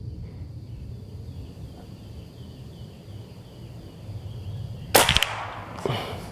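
An ASELKON MX6 6.35 mm full-power air rifle fires at a plinking target 30 metres away. One sharp, loud, close report is followed about a second later by a fainter crack, over a quiet outdoor background with a faint insect hum.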